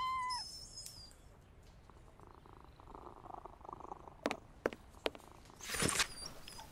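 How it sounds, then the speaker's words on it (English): Injured cat in the Sherlock Holmes vs Jack the Ripper video game gives a short, faint meow at the start, followed by quiet purring and a few soft knocks and rustles. "This cat seems to be in a sorry state."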